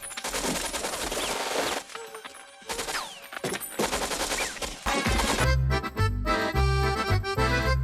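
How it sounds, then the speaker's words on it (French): Mac 10 submachine gun with a 32-round magazine firing in an action scene from True Lies, loud bursts of automatic fire mixed with film music and crashing effects across the whole stretch, heavy low booms toward the end. "pistolet mitrailleur Mac 10 de 32 coups"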